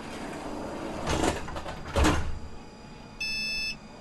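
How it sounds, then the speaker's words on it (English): Tram doors closing in the TramSim Console Edition game on a Munich route, heard as two soft sliding thumps about a second apart, followed by a steady electronic warning beep that holds briefly and stops. "Lock the doors."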